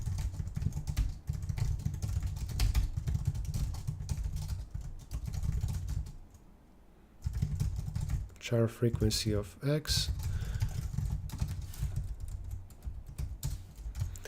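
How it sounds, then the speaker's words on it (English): Computer keyboard keys typed steadily while writing code, fast clattering bursts throughout with a brief pause in the middle, heard under a man's nearby speech. "The way I'm typing this is far from optimal in terms of speed"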